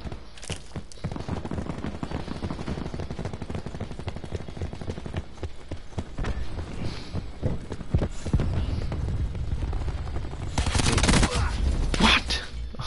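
Call of Duty gunfire in a league match: dense bursts of rapid shots and sharp cracks run throughout, loud and close, with a heavier volley near the end, over continuous game ambience.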